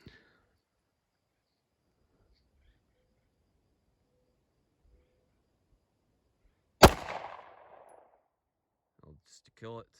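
A single reduced-recoil 9mm pistol shot cracks out loud and sharp after a long quiet stretch, its echo tailing off over about a second, with a brief voice murmuring just before the end.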